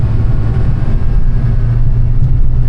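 A Saab car engine idles steadily after a vacuum advance rebuild, a smooth, even low rumble held close and loud, with no talking.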